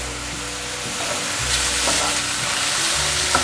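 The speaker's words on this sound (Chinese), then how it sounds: "快速翻炒，把调味料炒匀，" A vegan filling of taro and tofu with soy sauce and seasonings is stir-fried in a pan, giving a steady sizzle punctuated by quick scraping tosses of a spatula, close and without speech.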